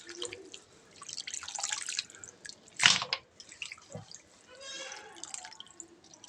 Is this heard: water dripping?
yes